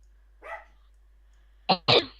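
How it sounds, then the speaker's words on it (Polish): Dog barking in The Sims 3 life simulation game: one short bark, a pause, then two quick barks close together, clear against a quiet background. "Durny pies."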